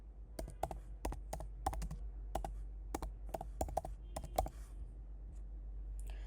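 Quiet, close typing on a computer keyboard, irregular bursts of crisp key clicks that stop for a pause near the end, over a low steady hum, with no talking.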